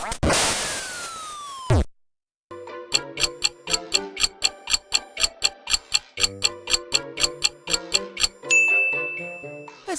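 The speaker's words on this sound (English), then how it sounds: "That's the sound of the gunshot when you hit the target in Duck Hunt." A retro NES Duck Hunt effect: a burst of gunshot noise on hitting the target with a falling tone, then a quick, regular run of bright electronic ticks and dings ending in a sustained tone.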